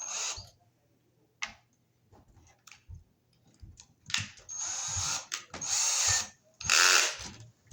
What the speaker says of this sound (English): we're going to have to drill a couple holes